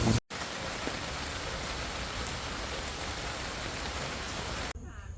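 Steady rain keeps up a dense, even patter near the mics in a village by a stream, broken only by a brief gap near the start and a shift in tone at the very end.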